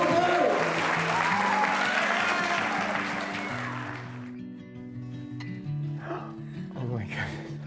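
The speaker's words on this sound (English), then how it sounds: "Let's get a big round of applause for the newlyweds." Wedding guests applaud the newlyweds with dense clapping that fades after a few seconds, leaving sustained music and brief voices behind it.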